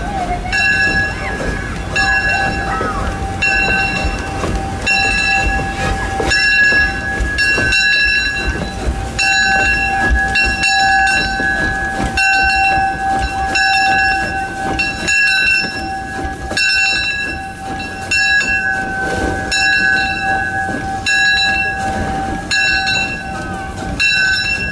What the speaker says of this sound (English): number 1 puffed into the shops towards the next set of switches that needed to be changed